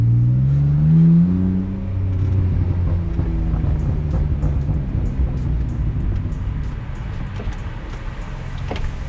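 Tuned BMW E46 car driving with the windows down, a loud steady engine drone that rises in pitch early on, then settles into a continuous rumble with road and wind noise throughout.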